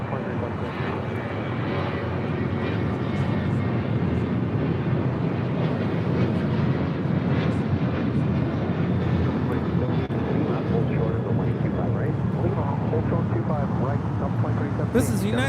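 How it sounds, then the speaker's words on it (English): A United Airlines Boeing 737-900ER takes off from LAX toward Denver, its engines a loud sustained roar building over several seconds, with voices talking over it. "2146 taking off to Denver on a 737-900ER"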